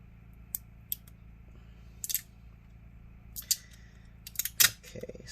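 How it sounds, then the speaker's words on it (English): Scissors cutting painter's tape during a laptop teardown, giving a series of crisp, close snips spaced irregularly, some single and some quick pairs, in an otherwise quiet room. "Alright, let's use the scissors so it's nice."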